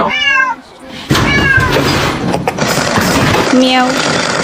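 Domestic cat meowing three times, with a short meow at the start, another in the middle and a last one near the end, loud and close over a busy, noisy background.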